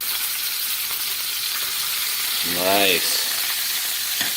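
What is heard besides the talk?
burger patties searing in an unoiled pan after flipping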